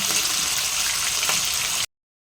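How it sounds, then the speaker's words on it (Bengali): Pieces of rupchanda fish frying in hot oil for a Bengali fish curry give a dense, even, close sizzle that runs steadily for a couple of seconds and then cuts off. "মাছগুলো ভেজে নিই একটা একটা করে"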